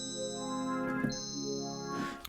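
A sustained synthesizer pad with bright, shimmering overtones layered above each note, shifting chords twice over a couple of seconds, played alone.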